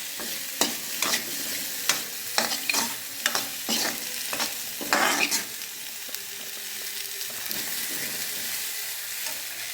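Chopped garlic frying in coconut oil, crisp spatula scrapes and knocks in a quick series over a bright, steady sizzle, then the stirring stops and only the even frying hiss goes on.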